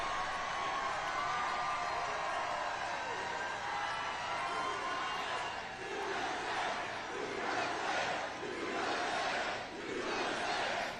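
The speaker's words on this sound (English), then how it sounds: "chanting USA, USA, USA?" A large crowd chants and cheers continuously at an event at a prison in El Salvador, a dense roar of many voices with rhythmic swells toward the end.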